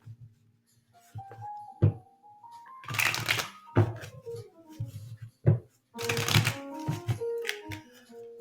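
A tarot deck being shuffled by hand, with bursts of riffling card flutter between light taps and clacks, close and fairly quiet.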